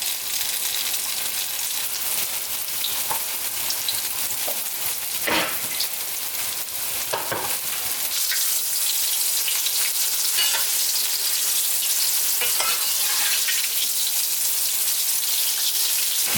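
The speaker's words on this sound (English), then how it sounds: "We're gonna go ahead and fry our tofu." Steady loud sizzling of tofu shallow frying in a wok, with occasional stirring clatter and scraping, close up.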